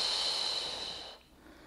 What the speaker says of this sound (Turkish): Nefes aldım.